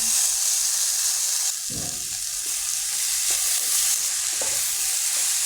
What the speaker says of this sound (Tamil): நம்ம குக் பண்ணி வச்சுருந்த காரமணியும் இதில் சேர்த்துடலாங்க